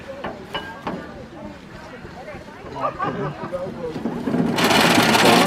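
A hand-cranked corn sheller with a flywheel strips kernels from cobs at a sorghum festival, a mechanical clatter and whir that swells into a loud rushing rasp at the end while people talk nearby.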